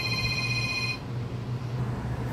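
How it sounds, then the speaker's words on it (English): A phone rings with an incoming call in a workshop during a lawnmower recoil rope repair, a steady electronic ringtone tone lasting about a second before cutting off, leaving room noise behind. "Oh, got a phone call."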